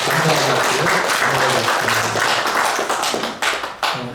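A church congregation applauds the choir during a Sunday worship service, with steady, dense clapping filling the room throughout and thinning slightly toward the end.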